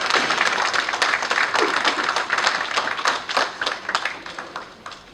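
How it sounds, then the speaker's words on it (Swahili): Applause at a Bungoma County Assembly performance contract signing ceremony, a dense, steady patter of many hands clapping close by that thins slightly toward the end. "Makofi kwa tafadhali, makofi."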